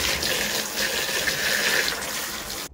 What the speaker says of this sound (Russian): И сейчас заливаем холодной водой.